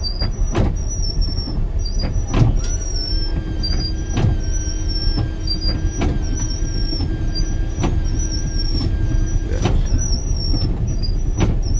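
A bus backing up through a congested town road at night in Lopez, Quezon, with a loud steady engine rumble, a high beeping reverse alarm and repeated clunks and thumps from surrounding traffic.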